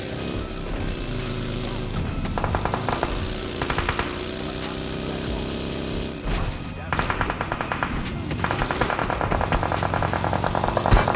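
Rapid automatic gunfire rattles against a buggy in a first-person shooter game, dense bursts of impacts and crashing hits over an engine drone, loud and continuous, with a brief lull near the middle before the firing resumes.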